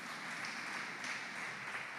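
A church congregation applauding during a Sunday sermon, a soft, steady patter of many hands clapping, distant and fairly faint, without any talk.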